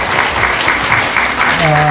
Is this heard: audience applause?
yes